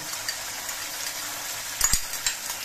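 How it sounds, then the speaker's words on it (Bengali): A turmeric and cumin spice paste goes into a hot pan while cooking a jackfruit seed dish. The oil sizzles steadily and close, then gives a brief, louder hissing spit when the paste lands. "এবার এর মধ্যে আমি হলুদের গুঁড়ো আর জিরের গুঁড়ো যে গুলিয়ে রেখেছিলাম সেই মশলাটা দিয়ে দিচ্ছি।"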